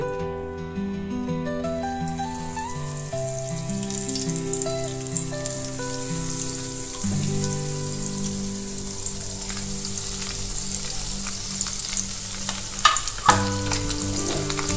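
Semolina-coated mackerel fries in oil over medium heat, a continuous crackling sizzle with small pops that runs steadily throughout, while soft melodic background music plays along.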